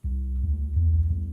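A Skoog soft cube instrument playing a breathy bass patch at a lowered octave: a sustained, deep low tone with a dense rumbling body, steady and fairly loud, with no talking.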